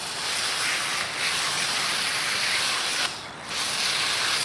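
Water jet on an angled nozzle setting sprays the chain rings of a mountain bike during cleaning, a close, loud and continuous hissing spray that dips briefly near the end.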